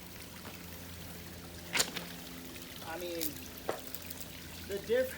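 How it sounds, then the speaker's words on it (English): Water from a garden waterfall pours steadily into a rainwater harvesting pond, a soft continuous trickle and splash heard close up beneath someone talking, with a few brief knocks. "So we decided to build a waterfall to keep the water moving and keep it oxygenated to prevent the stink."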